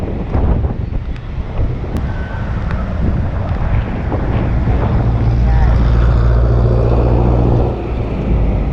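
Strong wind buffets the microphone in a constant roar, with faint rushing and traffic-like rumble beneath it.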